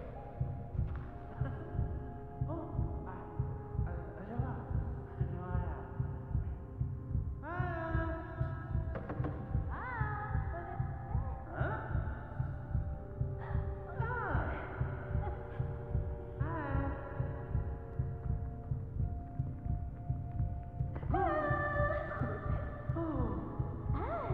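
Rhythmic, low thumping heartbeat from the video game Last Day of June, pulsing steadily and closely throughout beneath soft sustained musical tones that rise and fall.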